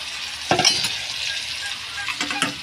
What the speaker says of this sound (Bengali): এবার এটা নাড়তে থাকি।